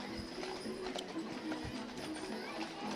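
Horses pull a wagon in a small-town parade, hooves clip-clopping steadily on pavement amid a busy outdoor crowd and street noise at moderate distance.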